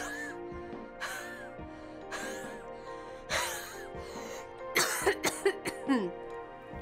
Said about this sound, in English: and at the end, I do a huff cough.